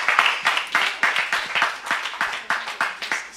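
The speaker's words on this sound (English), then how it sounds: "Can we give him a round of applause, please?" Debate audience claps in a lively, uneven burst, individual hand claps distinct and fairly close, the applause swelling and dipping over a few seconds without any talk.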